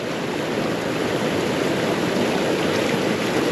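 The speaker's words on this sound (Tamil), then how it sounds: "தண்ணியோட ஃபோர்ஸ் எப்படி வருது பாரு." River water rushing forcefully over the Velliyur check dam on the Kosasthalai river, a loud, continuous broadband roar with no break and no voices.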